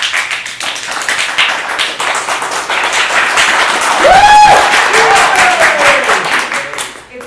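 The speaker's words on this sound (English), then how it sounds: "I'll listen for applause and I'll decide" Audience applause at a Christmas party, dense lively clapping with a whoop or whistle rising through the middle, then dying away at the end.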